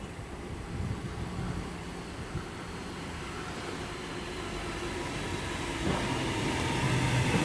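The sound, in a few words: Sydney B-set train arriving at Turrella station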